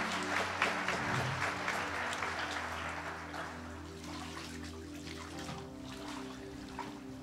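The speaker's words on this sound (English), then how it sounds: "And all of God's children clapped" Church congregation clapping steadily after a baptism, a dense wash of applause that stays fairly even throughout, with a low sustained hum underneath and no clear voices.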